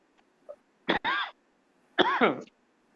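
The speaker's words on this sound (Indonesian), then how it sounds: "batuk saya kambuh lagi nih" A man's cough in two short harsh bursts, the first a double hack, close and fairly quiet against a still background, with no talk over it.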